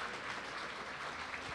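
Brief steady clapping from an audience at an educational training session, a dense even patter of hands with no talking over it.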